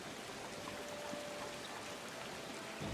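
Steady rain falling in Disney Dreamlight Valley, a faint, even hiss of drops that goes on without a break.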